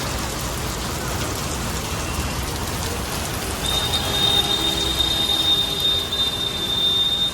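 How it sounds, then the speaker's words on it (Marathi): Dense, steady downpour of heavy rain drumming on surfaces, with a faint high whine joining partway through. "बघा, एकदम जोरात पाऊस आहे"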